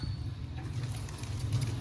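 Pigeons cooing softly and steadily over a low rumbling background, with no voices.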